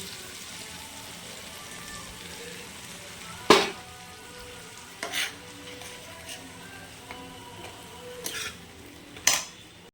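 Onion and tomato frying in a kitchen pan as spice paste is added, with a low steady sizzle under a few sharp clanks of a spoon or utensil against the pot.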